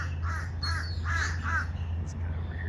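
Several crows caw in a quick series of harsh calls, a few close and clear over a steady low background hum, with one caw trailing after a short gap.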